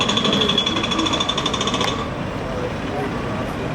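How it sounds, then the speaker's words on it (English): Rapid mechanical hammering from a distant jackhammer in London, heard from partway up St. Paul's Cathedral, steady for about two seconds and then fading out under a broad wash of city noise and wind. "in the distance, you can hear a jackhammer"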